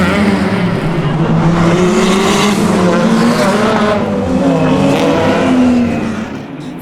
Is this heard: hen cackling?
no